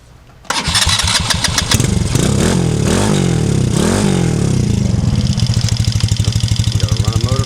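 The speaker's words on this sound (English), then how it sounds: "You got a running motor." The engine of a completed MBX #7 Carbide build catches after choking and settles into a loud, close, rapid clattering run that continues steadily to the end.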